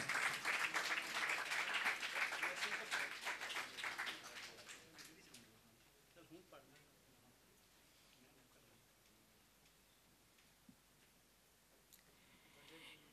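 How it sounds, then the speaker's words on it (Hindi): Mushaira audience applauding to welcome a poet, dense clapping loud at first, then thinning and fading to a few scattered claps and quiet room murmur after a few seconds. "नौजवानों से कहूँगा कि भरपूर तालियों में उनका इस्तकबाल कीजिएगा"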